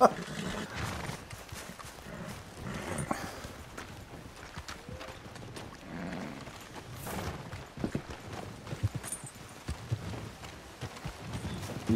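Hooves clip-clop in a steady trotting rhythm from a horse in the Red Dead video game, with an occasional whinny, while players talk over it throughout.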